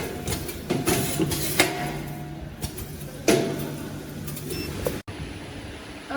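A semi-automatic wick inserting machine running in auto mode, with a steady mechanical hum and repeated clunking cycles at irregular intervals, fairly close and loud, with no talking.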